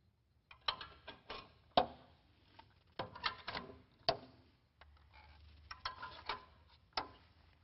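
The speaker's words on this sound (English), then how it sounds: "Simply lean it forward and get the peg to go into the hole." Plastic clicks and clatter from fitting a printer stand peg into the hole on a stand arm, a series of sharp ticks and knocks at an irregular rhythm.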